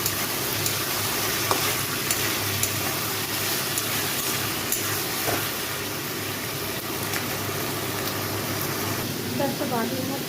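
Chilli mushroom with fried fish being stir-fried in sauce, a continuous loud sizzle and hiss with occasional scraping of a spatula against the pan, steady throughout without pause.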